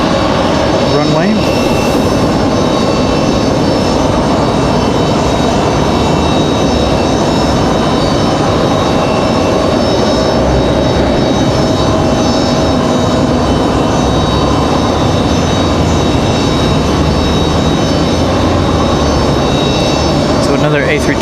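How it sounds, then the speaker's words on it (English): Frontier Airlines Airbus A321neo jet airliner taxiing toward the runway at Raleigh-Durham airport, a steady loud engine roar and whine filling the whole stretch, with a person talking over it. "Got Frontier Airlines headed to the end of the runway."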